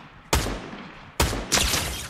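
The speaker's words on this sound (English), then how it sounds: "Why are you shooting at me, bots?" Gunfire from bots in the video game Fortnite: three sharp, loud shots, the first alone and the last two close together, each with a short decaying tail.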